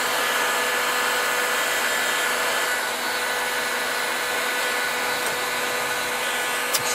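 A hot air gun gently heats brass inlay on a Boulle cabinet during restoration, giving a steady, close, loud blowing whoosh with a constant motor hum and one brief click near the end.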